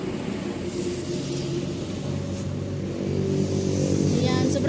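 Road traffic from many vehicles on a nearby street, a continuous rumbling drone of engines that swells louder toward the end, with faint voices in the background.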